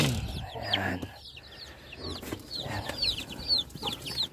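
Many chicks and hens in a brooder house, peeping and clucking continuously at close range, with bright repeated chirps throughout and faint speech mixed in.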